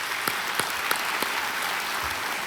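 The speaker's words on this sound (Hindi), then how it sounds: "स्वागत आपका एक बार फिर तालियों के साथ हम करना चाहेंगे" A quiz show studio audience applauds to welcome a contestant, a dense steady wash of clapping with a few sharper individual claps standing out near the front.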